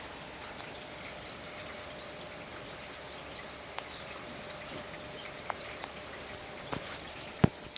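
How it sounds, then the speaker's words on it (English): Steady heavy rain falling during a night-long downpour with flooding, a dense continuous hiss with scattered louder drips and splashes near the end, no voices. "It's been raining non-stop from the night"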